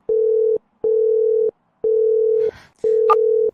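A telephone call rings out with no answer: a steady mid-pitched tone pulses four times at an even rhythm, and a brief soft rustle falls between the last two beeps.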